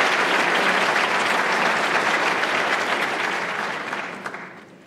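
Dense audience clapping at an awards presentation ceremony, loud and sustained, then tapering off toward the end.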